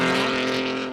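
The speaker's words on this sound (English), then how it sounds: "So we're releasing more cars on track right now." Time attack race cars pulling off the grid onto the Buttonwillow track, a loud close engine drone holding steady and then easing slightly over one second.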